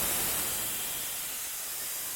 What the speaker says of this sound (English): Do you want to see the steam again, just quickly before I go over?